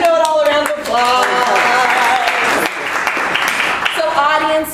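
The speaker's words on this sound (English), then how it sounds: "Give Dr. Know-It-All a round of applause." Audience applause in a streamed show, a steady wash of clapping lasting several seconds with tonal music-like voices or cheers overlaid at the start and end.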